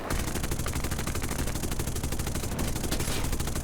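A rear gunner's machine gun in War Thunder, on a Swedish T18B-1 aircraft, fires as a continuous rapid stream of close, loud bursts over steady engine drone for the whole stretch.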